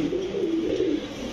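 A pigeon at a pigeon farm gives a short, low, wavering coo, close and clear against faint background hum.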